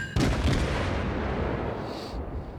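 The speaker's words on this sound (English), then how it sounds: "Just fire your guns" Heavy naval guns boom from warships in World of Warships, a sharp loud blast followed by a long rumbling roar that slowly decays with no voices over it.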